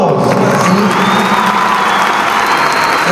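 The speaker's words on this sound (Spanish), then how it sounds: "Un aplauso, vamos." Large concert crowd at an indoor sports arena in Mar del Plata applauding and cheering steadily, dense continuous clapping with shouts and whoops throughout, loud and unbroken.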